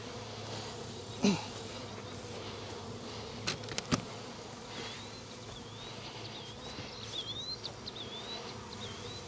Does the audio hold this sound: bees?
yes